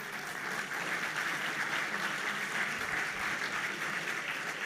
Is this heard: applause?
yes